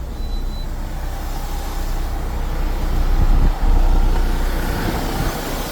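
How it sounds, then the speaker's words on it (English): Air suspension on a truck dumping its pressure, a steady broadband hiss and rumble that swells slightly midway, with a brief dip before carrying on, close and loud with no talking. "We can hear the air dumping from the suspension."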